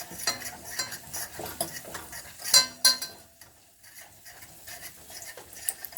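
Milk being whisked into a roux in a pan makes light scraping, clinking and stirring sounds at a moderate pace, with occasional sharper utensil taps against the pot.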